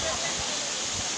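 Water rushing at Wli waterfall, the highest in West Africa: a dense, constant roaring hiss, loud and unbroken from start to finish.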